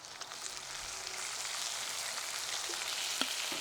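Pork stir-fried in a wok with garlic makes a steady, fairly quiet hissing sizzle with light scraping and an occasional clink from the spatula, and no one speaks.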